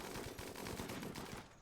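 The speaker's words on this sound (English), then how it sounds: "They keep shooting at me from very far away and doing legitimate damage." Rapid bursts of gunfire from a World War II-era RimWorld battle, dense overlapping machine-gun and rifle shots rattling continuously at steady loudness with no voices.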